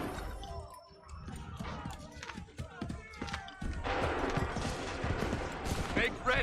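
A musket volley in Assassin's Creed III video game with scattered sharp shots and clattering debris, horse hooves and shouting voices mixed in, swelling into a louder, dense burst of gunfire toward the end.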